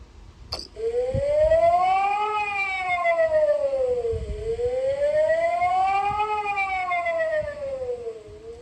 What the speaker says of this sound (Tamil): இந்த அபாய ஒலியை கேட்டால்